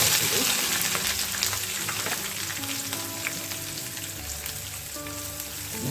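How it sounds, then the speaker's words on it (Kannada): Chopped onions and green chillies fry in hot oil for rice rava upma, a steady dense crackling sizzle heard up close with occasional faint stirring and no talk. "ಕಟ್ ಮಾಡಿ ಇಟ್ಕೊಂಡಿರೋ ಹಸಿಮೆಣಸು ನೀರುಳ್ಳಿ ಎಲ್ಲ ಹಾಕ್ತೀವಿ"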